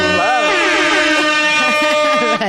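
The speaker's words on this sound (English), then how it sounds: "We need an air horn for that." A loud, blaring air horn sound effect plays almost continuously with a wavering, swooping pitch, mixed with voices and ending abruptly.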